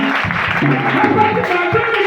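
A church congregation claps warmly with a steady wash of applause, while voices carry through the clapping near the front.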